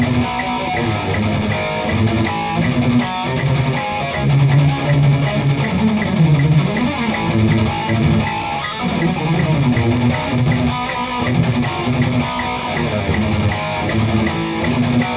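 Heavily distorted electric guitar chugging a fierce Euro metal groove, dense and loud with driving rhythm and steady chord changes, played alone throughout.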